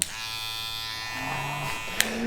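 A Kiepe Power Up rotary tattoo machine runs with a steady, smooth electric motor hum throughout, quiet and close, with a brief click near the end.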